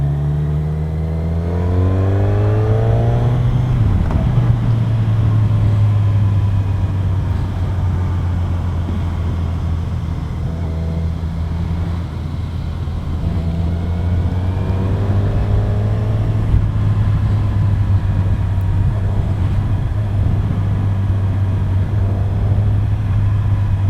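A 2021 Kawasaki Z1000 motorcycle revving and pulling away on a test track, the engine note climbing through gears and then holding a steady, loud, close droning hum with rising harmonics.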